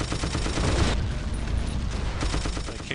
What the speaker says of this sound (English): A ridiculous number of kills with the coaxial machine gun on this tank.